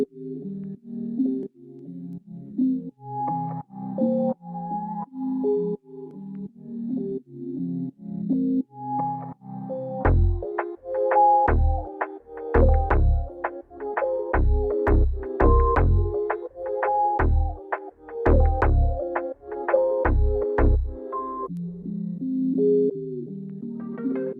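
A producer's melody plays back from a music project: soft synth-like tones in a looping pattern, joined midway by punchy low drum hits, with no voices.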